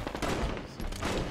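Rapid gunfire from a Halo 5 multiplayer match, a dense burst of overlapping shots at close range, loud and continuous over about a second.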